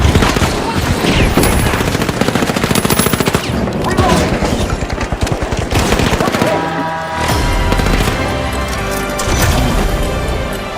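Rapid automatic weapon fire in The Finals, long dense bursts of loud, close shots with a brief pause before firing resumes, mixed with crashes and effects.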